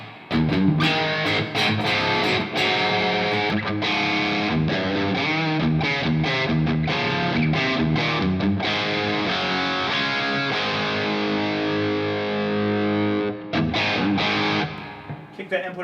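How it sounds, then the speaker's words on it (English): A distorted electric guitar rings out through the plate reverb of a 1985 Yamaha SPX90 effects unit. Chords and notes are played loud and continuous, with long washy tails, for about fifteen seconds. "And plate, you know, if you don't know it, that's the reverb that Eddie used."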